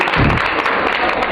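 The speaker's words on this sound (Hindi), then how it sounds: "इसके लिए बहुत सारी तालियां" Applause from a film festival audience honouring a film society, dense broadband clapping that fills the short moment, loud and steady, with no talk over it.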